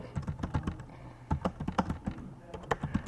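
Quick bursts of typing on a computer keyboard, close and crisp keystrokes in uneven clusters with brief pauses, while an HTML page's head section is being written.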